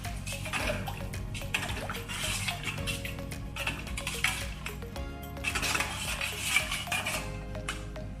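Spoon scraping and clinking against a pot while stirring sterilized culture medium, continuous metallic stirring heard close up with steady background hum.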